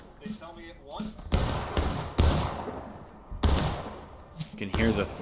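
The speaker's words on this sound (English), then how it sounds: "You can hear the thud of those sharps." Sharps rifles in War of Rights, a Civil War battle game, fire several heavy, thudding shots at irregular intervals with short decaying echoes, and a voice talks briefly at the start and end.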